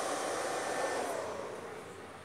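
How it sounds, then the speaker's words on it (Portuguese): A power inverter's cooling fan whirs with a steady, broad airy roar, close and continuous, fading slightly toward the end, with no talking over it. "Bicho é barulhento, viu? A ventoinha dele."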